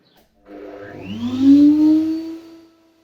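A table saw cutter fitted with a featherboard takes very tiny cuts in a wooden workpiece, giving one close, loud tonal whine that rises and swells for about two seconds, then fades.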